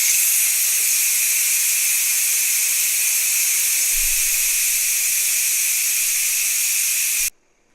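Steady, loud steam hiss rushes from the quick release vent of a Ninja Foodi pressure cooker for about seven seconds, then cuts off abruptly into near silence.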